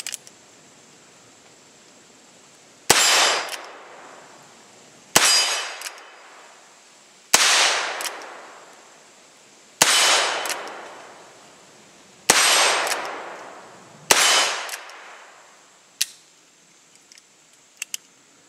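Heritage Rough Rider revolver fired outdoors, about nine sharp shots spaced roughly two seconds apart, each a loud close crack with a trailing echo, followed by faint clicks at the end.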